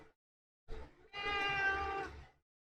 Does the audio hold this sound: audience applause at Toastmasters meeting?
no